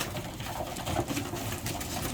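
Racing pigeons coo in a soft, steady, murmuring chorus close by, their low burbling calls overlapping continuously with no talk.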